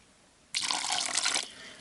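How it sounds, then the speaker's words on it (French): Water poured into fishing groundbait, a sudden close splashing gush that runs steadily for about a second, then stops, with a small drip after. "je vais rajouter à peine d'eau"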